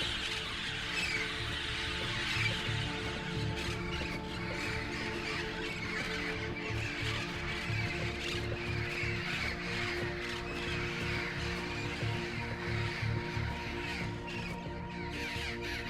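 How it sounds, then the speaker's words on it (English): A flock of parrots squawks and caws continuously in the Lost Ember video game, a dense chorus of harsh bird calls layered over steady ambient jungle sound at moderate distance. "that's a lot of parrots."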